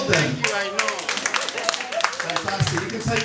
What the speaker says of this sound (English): And applaud them.